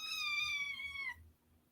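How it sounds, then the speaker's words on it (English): A single clear, drawn-out meow from a cat, close and fairly loud, sliding slightly downward before stopping, followed by quiet. "Did you hear her meow?"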